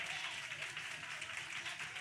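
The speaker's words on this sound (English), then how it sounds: "Y'all ought to clap for that." Faint, steady applause from an audience at a community outreach session, continuous soft clapping heard at a distance.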